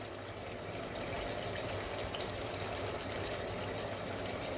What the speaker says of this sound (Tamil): இப்போது தண்ணி ஊற்றிக்கலாம்.